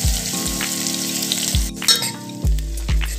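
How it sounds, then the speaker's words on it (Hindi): Chopped onion frying in oil with mustard seeds, cumin and asafoetida, a close steady sizzle broken by repeated scraping thumps of a spoon stirring the pan, no voices. "प्याज को थोड़ी देर चला लेंगे फ्रेंड्स, हल्की ब्राउन कर लेंगे"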